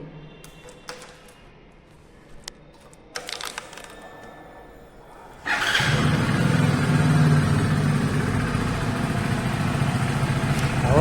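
A car engine is started with a key after a quiet stretch of small clicks, then settles into a steady, loud idle that runs on to the end.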